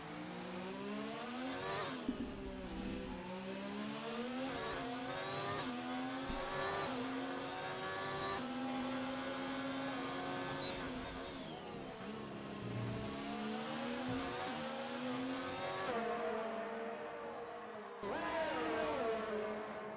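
Formula 1 race car engines in the F1 2019 video game at the Monaco GP, a loud, continuous high-pitched whine rising and falling as the cars accelerate, shift and brake, with a brief drop near the end before revving again.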